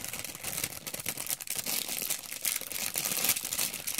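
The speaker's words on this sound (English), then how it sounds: "Sorry for all the crinkling" Plastic packaging around newly arrived computer hardware, a sound card and graphics card, crinkles continuously as it is handled. The rustling is dense, close and steady throughout, with no talk.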